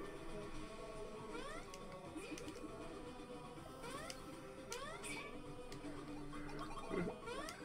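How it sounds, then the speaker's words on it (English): A cat meows repeatedly, with drawn-out, rising calls spaced across the stretch, faint and somewhat distant beneath a busy background. "Is there a cat?"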